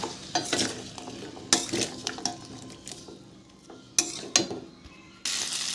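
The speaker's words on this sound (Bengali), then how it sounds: "সামান্য একটু করে জল দেব আর মশলাটা কষতে থাকবো" Spice paste for a Bengali taro and lentil-dumpling curry being stirred and fried in a pan with splashes of water. Repeated scraping strokes of a spoon against the pan come in bursts over a close, steady sizzle, with no voices.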